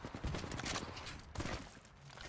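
Kraber sniper rifle shots in the video game Apex Legends, a few sharp cracks spread through a busy burst of gunfire and footsteps, faint and distant in the game mix.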